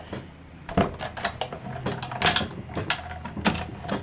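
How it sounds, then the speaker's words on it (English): A manual die-cutting machine creaks and cracks as a stack of plates, precision base plate and cutting pad with paper is cranked through, giving a series of irregular close clicks, pops and creaks with no talking. "You may hear a few little creaks and cracks"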